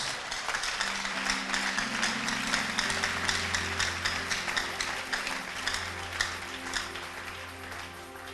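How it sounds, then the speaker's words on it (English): A church congregation claps along with hands for Jesus during a sermon, steady applause with music tones running underneath throughout. "Clap your hands for Jesus."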